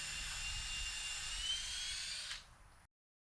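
A drill whirs steadily, close and high-pitched, driving countersunk screws to fasten a shelf and countertop to a workshop storage base, then winds down and stops after a few seconds.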